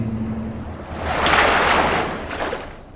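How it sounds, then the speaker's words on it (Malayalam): Ocean waves wash onto a seashore: a single broad surge of water swells up, peaks and slowly recedes, with wind-like rushing and no voices. "തിരമാലകൾ വന്ന്"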